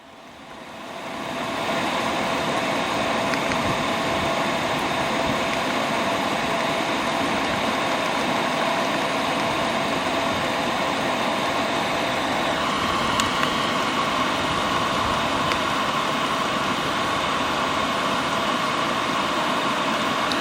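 A diesel heater runs steadily with a dense, continuous engine-like roar and broadband exhaust hiss, starting quieter and quickly swelling to a constant, loud level that holds without interruption or speech.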